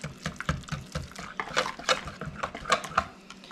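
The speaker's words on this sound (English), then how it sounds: "I'm just going to whisk it until I see that all the spices have been incorporated" Pumpkin pie filling with sweetened condensed milk and spices being whisked in a bowl, giving a steady run of quick, close wet clicks and splashy scrapes against the bowl with no one talking.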